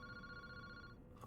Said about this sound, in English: The ringing of the phone is the only sound cutting through the quiet park.